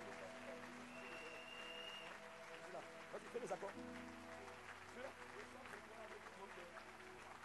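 A church congregation applauds during a worship service, a steady wash of clapping sustained for several seconds with a few louder claps near the middle, mixed with singing voices and a sustained musical drone.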